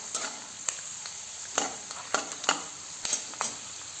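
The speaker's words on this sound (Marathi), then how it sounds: "आता हे शेंगदाणे थोडेफार असे भाजलेले आहेत बघा." Peanuts dry-roasting in a pan for kande pohe, with a soft background sizzle broken by repeated crisp scraping strokes as a spoon stirs them. The strokes are close and come at an uneven rhythm.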